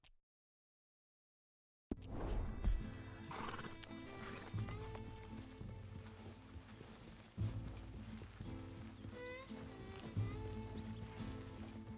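A horse in Red Dead Redemption 2 whinnies and its hooves clip-clop steadily after a brief silence, loud and close, with game sounds layered around it.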